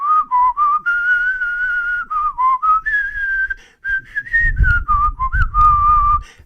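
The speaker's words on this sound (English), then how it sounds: "I heard him opening a piece with a whistle" A melodic human whistle carries the opening of a Jewish music piece, a clear, loud run of sustained and stepping notes with short breaks, joined by soft low strumming accompaniment in the second half.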